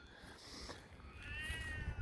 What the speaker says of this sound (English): That's just a grumbly cat.